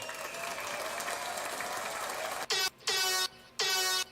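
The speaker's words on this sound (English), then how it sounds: "get some cheering there" An audience applauds and cheers a prize winner for a few seconds, then loud air-horn-like blasts sound three times in quick succession and cut through the clapping.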